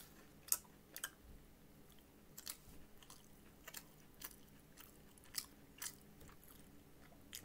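Popeyes fried chicken being eaten up close, with soft crunchy bites and wet chewing in an irregular rhythm, quiet and without talking.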